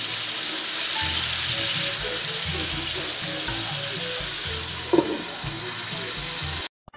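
Food frying in a covered pan for adobong sitaw with chicharon, a steady close, loud sizzle with faint low background tones, ending abruptly near the end.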